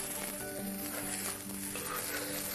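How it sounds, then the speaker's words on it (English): Rice frying in a pan for chicken fried rice, a steady close sizzle with faint scraping from stirring, continuous and even throughout. "Now you see the rice is beginning to stick a little bit, which is sort of a good thing. It means that it's starting to fry."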